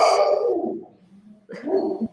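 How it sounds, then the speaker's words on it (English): A pet dog barks indoors during an online call, two fairly close, muffled bursts separated by a brief quiet gap, with no speech over them. "my dog started barking just as you put me on here"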